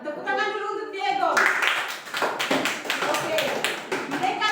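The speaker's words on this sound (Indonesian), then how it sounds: "Tepuk tangan dulu untuk Diego" A classroom of young pupils claps for a student during a lesson, a burst of close, rapid hand claps that starts after a voice and carries on irregularly for several seconds.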